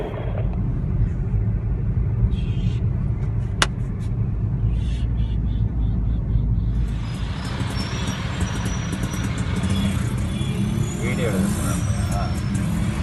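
Car on the road in India at midday, a steady heavy rumble of the engine and road noise that thickens with wind and traffic hiss partway through, with a voice talking over it.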